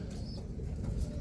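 Roller pigeons in a backyard loft give a low, murmuring coo, close and steady, with a brief light flutter mixed in.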